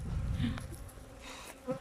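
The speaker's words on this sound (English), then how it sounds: "So I've got bees stinging me on my fingers." Close, low buzzing of honeybees swarming around a beekeeper at the hive, a continuous droning hum with a few louder passes near the microphone.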